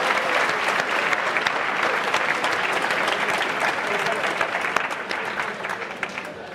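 Sustained audience applause fills the hall at the Formula Student 2023 awards ceremony, dense, steady clapping with scattered cheers that fades slightly toward the end.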